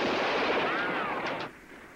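Gunfire with real bullets in a 1978 film scene about pirates, heard as a sustained loud burst of sharp overlapping shots and crackle that cuts off abruptly after about a second and a half.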